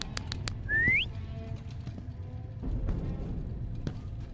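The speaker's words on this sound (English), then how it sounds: "there's definitely whistling coming from this way" Eerie whistling aboard a ghost ship: a single short rising whistle stands out early against a low, faint rumbling background, followed by quiet ambience with a few soft clicks.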